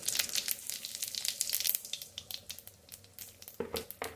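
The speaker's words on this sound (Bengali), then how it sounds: "এখানে দিয়ে দেবো একটু তেল, সরষের তেলই দিলাম। দেবো একটু জিরে ফোড়ন" Cumin seeds sizzling in hot mustard oil in a pan for Bengali kosha chicken, a crackling spatter of quick close pops that gradually thins out, no talk.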